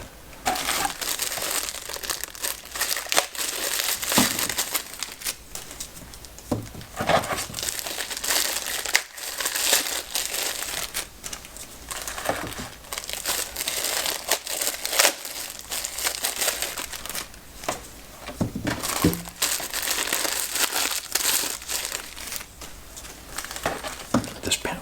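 Plastic bags crinkle and crumple almost continuously while baseballs are unpacked from boxes, with close, rustling texture and soft handling noises and no speech.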